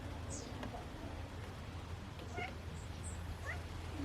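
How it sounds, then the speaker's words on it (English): A pet cat gives a few short, soft meows indoors, scattered across a few seconds against a quiet room hum, faint and close by. "And my cat is coming to see me."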